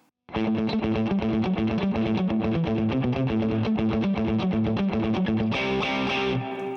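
A distorted electric guitar plays a riff in Dorian mode, fast and driving, continuously loud and upfront, with a brighter chorused texture near the end.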